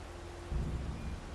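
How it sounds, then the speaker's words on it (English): Rain and a low thunder rumble in the farming game Farming Simulator 22, a steady wash of rainfall with a deeper rolling swell arriving partway through, no voices. "And is that rain I hear?"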